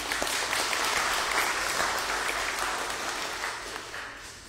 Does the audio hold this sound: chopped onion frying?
no